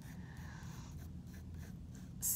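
Pencil sketching on paper, a soft continuous scratching with short strokes and brief pauses, close and quiet, ending in a sharper tap.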